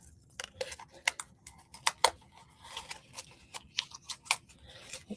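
Packaging for a Sky Stone bracelet toy being torn open up close, a run of sharp crinkly rips and snaps in irregular bursts, fairly quiet with no talking.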